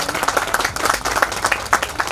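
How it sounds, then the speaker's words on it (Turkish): Audience applause for the mayor at the Karapınar regional cooking contest, a dense burst of many hands clapping close by, steady and lively throughout with a faint voice underneath. "bir alkış isteyebilir miyim başkanımıza?"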